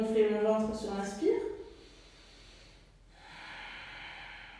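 A person breathing for yoga takes a deep inhale through the nose, a soft, airy rush heard near the end, after a brief stretch of talking and a quiet pause.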